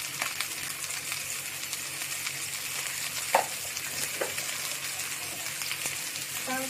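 Chicken legs fry in a pan with a steady, dense sizzle and crackle, a few sharper pops standing out over the constant hiss, with no talking.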